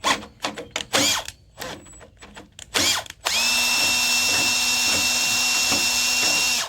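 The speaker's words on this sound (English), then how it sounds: "you're bound to go through at least one battery drilling 6 holes through steel like this" A battery-powered drill boring holes through steel, starting with a few short stuttering bursts and rattling pauses, then settling into a loud, sustained whine with a steady grinding pulse, close up and with no talk.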